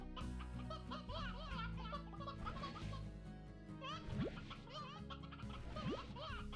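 A stony hen clucking in the video game Slime Rancher, with several short bursts of hen clucks and chatter over light background game music.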